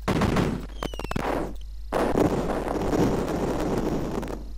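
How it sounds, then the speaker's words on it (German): Grenade blast in the game Cannon Fodder, a loud burst of noise followed by a brief rattle of sharp cracks, then a sustained rumbling roar, with no talking. "Mit der Granate kriegen wir zumindest den Zaun gleich mit kaputt."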